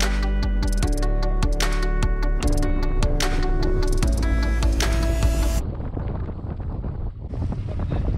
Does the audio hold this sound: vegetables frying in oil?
no